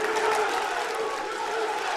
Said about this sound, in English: you can hear the elation from the crowd chanting USA